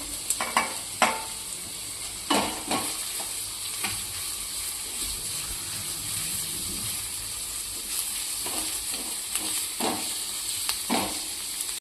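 Carrots and other vegetables stir-frying crunchy in a pan over a gas flame, a steady sizzle broken by repeated clattering stirs and scrapes of the spoon against the pan.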